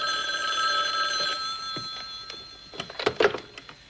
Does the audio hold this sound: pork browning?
no